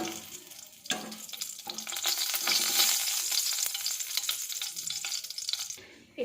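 Dried red chilies and bay leaves fry in hot oil in a pan, giving a steady close sizzle with crackles and occasional stirring scrapes, fading slightly at the end.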